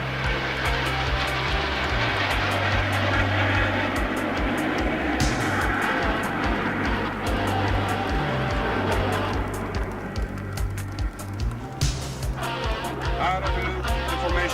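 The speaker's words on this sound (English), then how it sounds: "2 aircraft at a time, 3 times, going back into a loop, shaping up in a pyramid" Jets of the Italian Air Force acrobatic team roar through a loop in formation, a loud continuous engine drone filling the air throughout, with a commentator talking over it.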